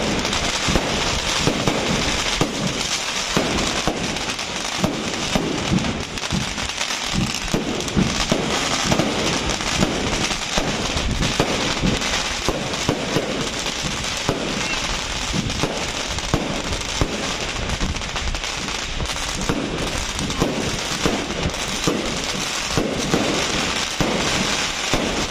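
Fireworks at a village festival for San Rocco Confessore in Castelluccio Valmaggiore, with a dense, continuous barrage of crackling bursts and booms that stays loud throughout.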